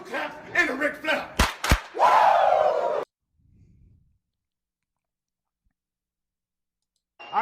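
Two sharp claps ring out in quick succession, followed by a loud, drawn-out Ric Flair-style "woo" shout from a voice, after speech, then near silence with a faint murmur.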